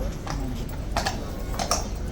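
Hooves of a police horse clip-clopping on pavement, a few sharp knocks spaced unevenly over steady background noise, fairly close and moderately loud.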